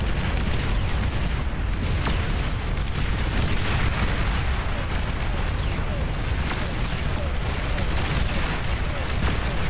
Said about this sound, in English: Ooh, good explosion there.